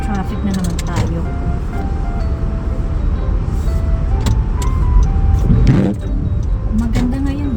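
A car on a Canadian road after overnight snow, driving home from work: a continuous low road and engine rumble throughout, with someone talking over it.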